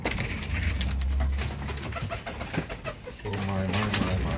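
Young homing pigeons coo in a loft, low throaty repeated coos, close and fairly loud, with rustling and other bird noise around them.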